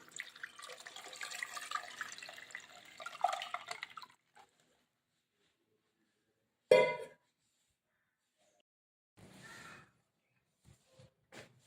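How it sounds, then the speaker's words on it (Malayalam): Water poured into an indoor plant container, a close trickling splash for about four seconds, then silence broken by a few brief knocks and rustles. "അപ്പോൾ ഇനി ഇതിലേക്ക് നമുക്ക് വെള്ളം ഒഴിച്ചു കൊടുക്കാം"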